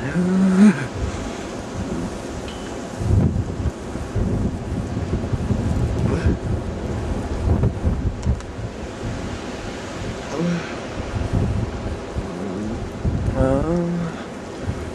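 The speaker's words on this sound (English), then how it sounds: "We are officially in blizzard conditions." Blizzard wind roaring through Winter Storm Adrianne in December 2010, a loud steady gusting rush with buffeting on the microphone, while a person talks intermittently over the storm.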